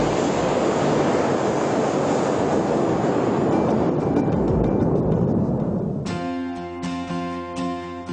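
Aircraft jet engine blasting hot gas from its rear nozzle: a loud, steady broadband roar that slowly thins, then gives way to a layered high-pitched turbine whine, with no voices.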